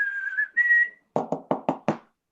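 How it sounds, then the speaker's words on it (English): A person whistles a steady melodic line of the tune Shenandoah, two sustained notes, followed by five sharp, evenly spaced taps or knocks, all close and clear against silence. "We'll whistle a tune as well."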